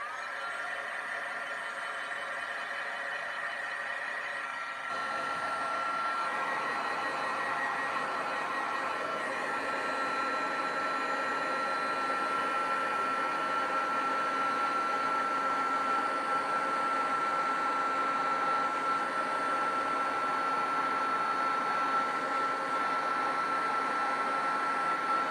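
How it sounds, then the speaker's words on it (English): A heat gun used for card-making switches on with a slight shift after a few seconds and then runs continuously as a loud, even blowing whine with a steady high tone, close by. "I'm going to turn on my obnoxious heat gun"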